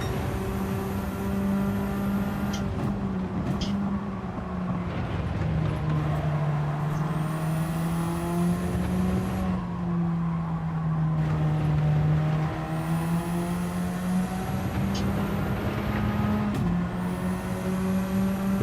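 Racing car engine in a driving sim, played with no assists on a circuit, droning steadily throughout with a sustained whining pitch that rises and falls through gear changes and cornering, loud and continuous with no voices.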